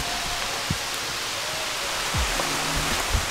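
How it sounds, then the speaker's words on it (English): Heavy rain falls at a wooded campground under tree cover, a steady dense hiss with scattered louder drops and patters across the short stretch, no voices present. "This rain is really coming down now."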